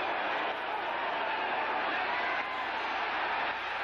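A football stadium crowd at a 1979 Steelers–Patriots game rises into a broad, sustained roar, distant and steady throughout, with no clear individual voices.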